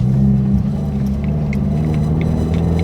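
Subaru WRX with a new intake accelerating in first gear, a loud steady low engine drone and rumble heard from inside the car with little change in pitch.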